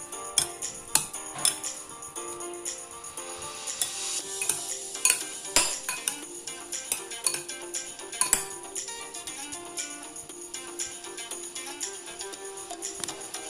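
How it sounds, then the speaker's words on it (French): A spoon stirs a sugar and liquid vanilla mixture in a bowl, making a string of close scraping and clinking taps in an irregular rhythm that thins toward the end. "Je mélange et je laisse reposer de côté."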